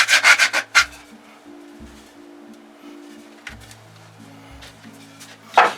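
Rough edges of a freshly cut wooden shelving board are sanded by hand in short rubbing strokes, a quick burst of scrapes opening the sequence and a few more later, close up over a low electrical hum.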